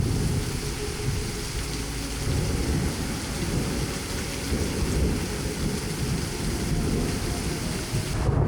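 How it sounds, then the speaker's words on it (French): A heavy rain downpour at Freshwater Beach roars steadily with deep rolling thunder underneath, loud and continuous throughout. "ce matin il y avait un grand soleil et là c'est le déluge"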